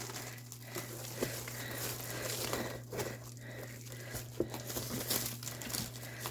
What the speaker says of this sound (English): you can just rip that all the way around and then rip through the label